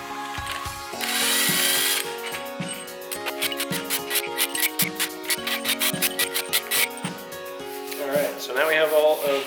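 Main cap bolts on a Ford Coyote shortblock being loosened with a ratchet, a quick run of sharp metallic clicks in steady rhythm, close and clear, with brief pauses between bursts and a short spin at the end.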